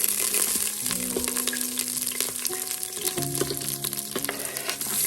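Cardamom and cumin fry in a hot pan, giving a continuous close sizzle with occasional stirring clinks and scrapes.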